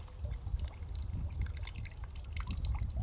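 A faulty Spyra water blaster, nearly empty, sputters out its remaining water in a faint, uneven trickle of splashes and drips that keeps running without pause.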